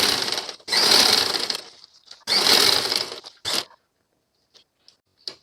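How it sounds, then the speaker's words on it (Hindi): A sewing machine stitches a printed cloth bag in two long bursts of close, loud, steady whirring, followed by a shorter burst and a few faint clicks. "इसको हम सिलाई करें"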